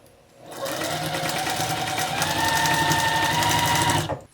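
A sewing machine stitching fabric scraps together for a scrappy mug rug, one steady continuous run of rapid mechanical whirring for about three and a half seconds, close and clear, starting and stopping abruptly.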